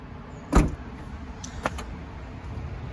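The powered tailgate of a BMW X5 M xDrive Competition closes at a button press, giving a sharp thud followed by a couple of fainter clicks against a quiet background.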